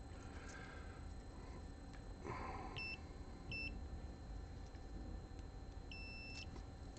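A multimeter set to continuity for probing a Kosmo mixer module build gives three short electronic beeps, the last one longer, over a quiet room hum.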